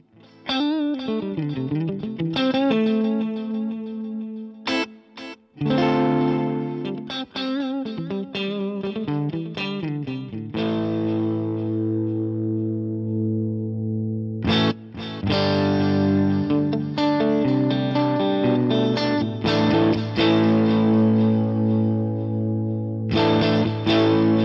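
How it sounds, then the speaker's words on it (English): Electric guitar played through a Tone Master Pro with reverb on one side and delay on the other, loud sustained chords and picked notes with trailing echoes and a wash of ambience, no talking. "you'll be able to hear reverb slightly to one side and delay slightly to the other side"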